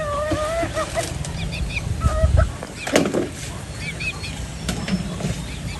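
Pet chickens being fed in a backyard pen, with scattered clucks and squawks, brief wing flaps and shuffling nearby, a few louder honk-like calls breaking through the busy bird chatter.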